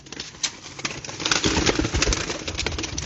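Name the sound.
pigeons cooing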